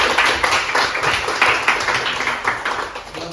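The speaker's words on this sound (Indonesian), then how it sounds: "tepuk tangan dulu." A lecture audience claps hands in a brief, fairly loud round, the claps pulsing in uneven bursts with faint background murmur.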